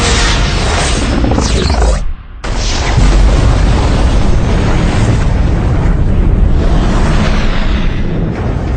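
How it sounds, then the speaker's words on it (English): Torpedo explosions rock a movie space battle, a loud, continuous rumbling blast with booms and whooshing debris, broken by a brief drop near the start before the roaring resumes. "Massive secondary explosions."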